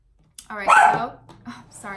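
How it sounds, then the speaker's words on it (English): A pet dog gives a short bark or yip indoors, close and fairly loud, while someone speaks over and around it. "that's my dog"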